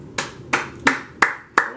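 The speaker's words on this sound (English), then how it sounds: "Round of applause for him" Five slow, evenly spaced handclaps ring out one by one, crisp and close. It sounds like a single pair of hands rather than a full crowd.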